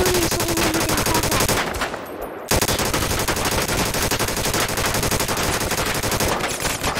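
Dense automatic gunfire and rapid shots fill a war roleplay video game battle, loud and continuous, with a brief drop around two seconds before the barrage resumes.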